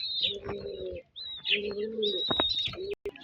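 Pigeons in a loft give several close, soft, rolling coos in bursts, with thin high chirps overlapping and short pauses between calls.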